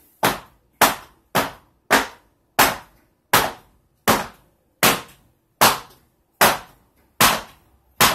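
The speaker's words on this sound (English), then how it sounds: "I'm just banging it down on the floor, trying to get everything, you know, air bubbles out" A mold of hot process pumpkin puree soap is banged down on a floor fourteen times in a steady rhythm, each knock a sharp, loud, close impact with a short decay and no talking.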